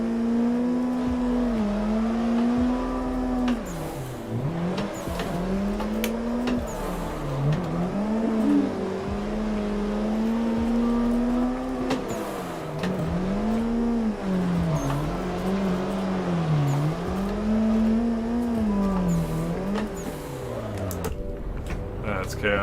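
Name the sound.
drifting car engine in Assetto Corsa video game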